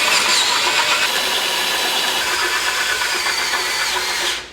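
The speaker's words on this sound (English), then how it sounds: "there's a little bit of drilling required for the base of the shock mount" A power drill whines continuously at high pitch for a few seconds, close and loud, drilling the base of a shock mount on a Jeep Wrangler, then winds down.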